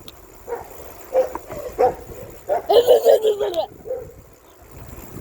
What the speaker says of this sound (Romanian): Câine, câine, câine.